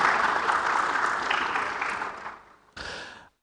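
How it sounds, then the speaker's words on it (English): Audience applause at a stage panel event on foundational learning, a dense steady clatter of many hands that fades, stops briefly, then bursts up again before cutting off. "Shall we do a big round of applause for them once again?"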